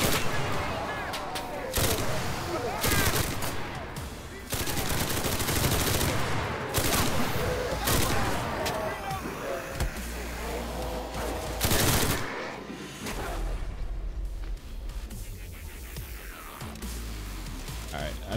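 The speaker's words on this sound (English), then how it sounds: "Okay, Tommy gun time." Tommy gun bursts in the World War II shooter game Enlisted, with rapid automatic fire crackling in repeated loud volleys amid other battlefield gunfire and explosions over about eighteen seconds.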